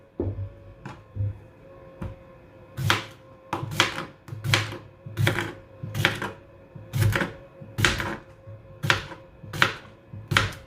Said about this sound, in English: I'm just going to cut this